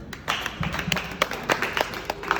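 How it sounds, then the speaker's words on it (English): Audience at a creatives conference clapping, a scattered run of hand claps of mixed strength going on steadily without talk. "Please let's clap for her."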